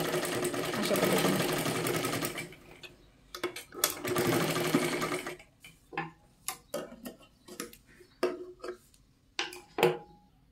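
A sewing machine stitches a princess-cut blouse, running in two steady bursts of several seconds each, then giving way to a string of short, sharp clicks and taps as the fabric is adjusted.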